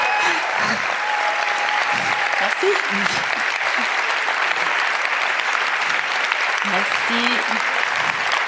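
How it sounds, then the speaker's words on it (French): Audience applause at the close of a French talk on inclusion in the workplace, loud continuous clapping throughout as a speaker briefly says thanks over it. "Et maintenant, vous pouvez applaudir."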